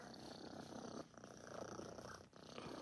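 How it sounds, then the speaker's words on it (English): A kitten purrs softly and steadily up close, a continuous quiet rumble with brief pauses between breaths and no talking over it. "Look at her purr."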